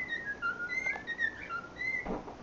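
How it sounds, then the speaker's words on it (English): A person whistles a wavering melodic tune at a pet cockatiel, soft and fairly close, in short rising and falling phrases with a brief knock near the end. "She don't care if you whistle."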